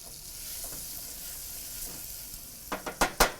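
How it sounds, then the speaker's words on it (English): Food sizzles and fries steadily in a pot, with a few louder scraping stirs near the end as a utensil moves through it; no voices. "I'm going to stir this from time to time"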